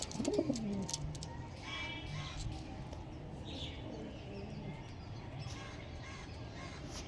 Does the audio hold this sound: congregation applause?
no